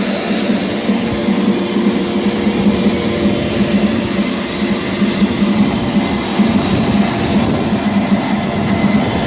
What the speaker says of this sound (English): You can hear the blade thumping a little bit since it hit those nails.